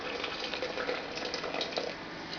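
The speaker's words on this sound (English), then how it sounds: "I'm going to pour this in my blender, and it's just 3/4 of a cup" Hot water, three quarters of a cup, pours into a blender as a soft, steady splashing stream, fairly faint and unbroken.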